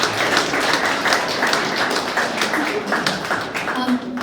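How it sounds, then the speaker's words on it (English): Steady, dense applause from an audience for the Shelter board, a continuous close wash of many hands clapping with no pause. "So a big round of applause for the Shelter board."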